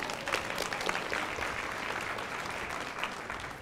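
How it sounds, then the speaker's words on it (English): Applause from a small audience, a steady wash of clapping hands lasting several seconds, moderately close and continuous without voices. "A little round of applause for..."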